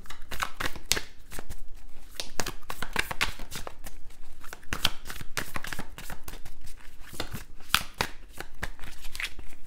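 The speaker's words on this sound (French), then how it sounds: "On va recouvrir les cartes." Tarot cards are handled, shuffled and laid over one another, giving a steady run of quick papery rustles, flicks and soft taps close by, with no talking.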